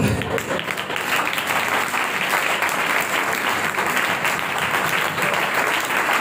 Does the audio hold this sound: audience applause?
yes